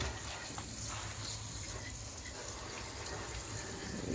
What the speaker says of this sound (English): We want to see water running, and we're just going to do this all the way across.